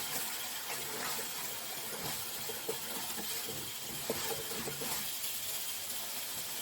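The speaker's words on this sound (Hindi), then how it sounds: "अब फ्लेम को हाई कर देंगे ताकि पानी अच्छी तरह से ड्राई हो जाए" Minced mutton keema cooks in a pan on high flame as its released water boils off, producing a faint, continuous hissing sizzle with small bubbling pops, with no voices.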